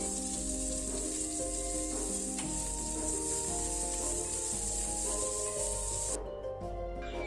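Chopped onion tossed into hot oil with spluttering mustard seeds and dals, crackling and sizzling steadily and loudly up close, with a dense continuous hiss and a brief dip near the end.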